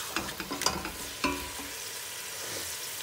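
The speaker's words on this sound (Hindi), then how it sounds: "हल्की आंच पे अच्छे से भूनना ताकि ये अच्छे से भून जाए, अदरक लहसुन भी और गोश्त भी गोल्डन गोल्डन सा हो जाएगा" Mutton pieces with ginger and garlic in korma masala sizzle over low heat for biryani, a few stirring scrapes near the start giving way to a soft, even frying hiss.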